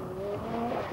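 A Bourgoin prototype rally car with a Renault engine runs on a test circuit, its engine whining with rising and falling pitch, loud and close, and a hint of tire squeal.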